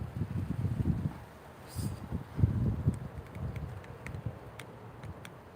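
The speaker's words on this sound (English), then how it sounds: "It's very windy." Wind gusting through a vegetable garden of mini bell peppers and green onions on a cool morning, coming in low rumbling buffets against the microphone with brief lulls between the stronger gusts.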